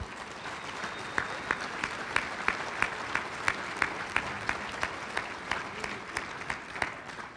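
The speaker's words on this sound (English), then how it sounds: "I think that deserves a round of applause." Audience at a college football team banquet gives a sustained round of applause, a dense wash of clapping with a few sharper, closer claps standing out in a regular rhythm.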